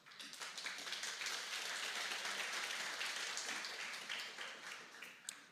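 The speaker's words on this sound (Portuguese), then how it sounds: "Pode aplaudir ao Senhor" Church congregation clapping during a worship service, a continuous crowd of hands heard at a moderate distance, steady throughout with no talking over it.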